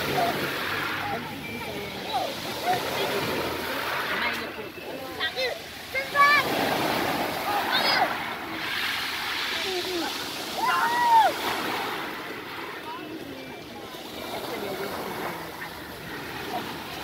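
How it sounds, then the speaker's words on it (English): Rough sea water churns and splashes continuously at a beach, waves surging and breaking nearby while people talk over the noise. "The water getting so rough now."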